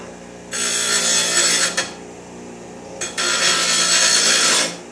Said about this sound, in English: We'll clean up on the bench grinder here.